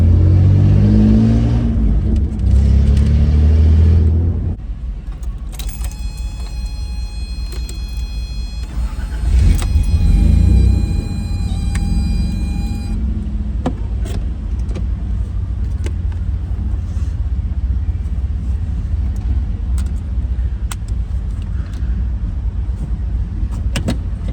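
A car on the road in Clayton, Georgia, heard from inside: a loud engine rumble, a brief whine and clicks as it moves off, then a steady cruising drone with small knocks.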